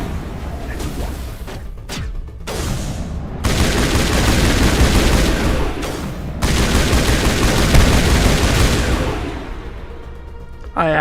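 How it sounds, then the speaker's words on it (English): Rex firing his shotgun in Mass Effect 1 during a Noveria station fight, loud close blasts amid a dense, continuous barrage of game gunfire and impacts, with sharp bursts breaking through a sustained roar. "is Rex using his shotgun? And immediately Rex blasts the guy across the goddamn station."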